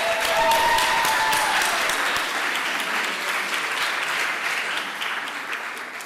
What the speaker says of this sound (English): let's give Annie a round of applause